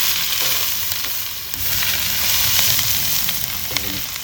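Garlic and onion frying in oil in a pan for a sweet-savory chicken dish: a loud, dense, continuous sizzle with faint stirring clicks, no talking.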